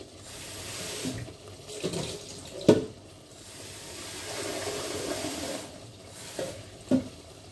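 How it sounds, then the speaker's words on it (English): Tap water running from a kitchen faucet into a jug used for sauce, a steady splashing flow with a few louder knocks and clinks as the jug is handled. "We're going to add a bit of water, just water from the tap, in the same jug I used for the sauce."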